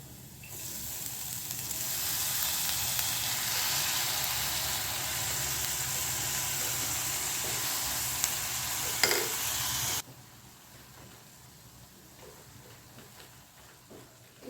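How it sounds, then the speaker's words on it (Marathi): Mixed sprouts hit a hot pan and are stirred, a loud broad sizzle that holds steady for about ten seconds before cutting off to a quiet background. "आता आपण यामध्ये हे स्प्राउट्स घालून देणार आहोत"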